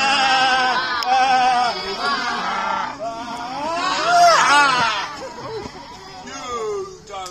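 Several people imitate sheep, bleating in wavering, high voices one after another at close range, alongside some speech, during a Halloween forest adventure in Devon.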